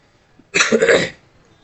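A single harsh cough burst, close and fairly loud, lasting about half a second with a raspy, noisy texture, then quiet.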